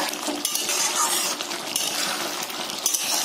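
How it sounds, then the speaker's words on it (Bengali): Metallic clinks and scraping of a pot lid being lifted and a spoon stirring mushroom masala in a cooking pot, a steady busy clatter close by with no talking. "ঢাকনাটা উঠিয়ে নিচ্ছি। একটু নাড়বো"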